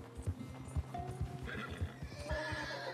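Horse hooves clip-clop in a steady rhythm, and a horse neighs loudly near the end, close and clear, in the video game Red Dead Redemption 2 Online, snowy mountains.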